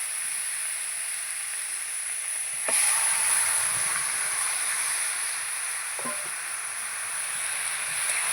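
Pumpkin greens hit hot oil with garlic, ginger paste and chili, a steady bright sizzle that jumps louder at the moment they go in and hisses on evenly with a few soft stirring knocks.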